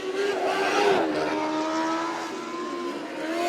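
A race car screams down the main straightaway, its engine note rising and then holding high and loud, with a commentator's voice faintly underneath.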